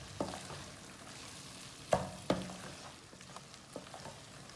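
Beef korma gets mixed in a pan with fresh coriander, soft sizzling beneath a few distinct spoon knocks and scrapes, close but faint.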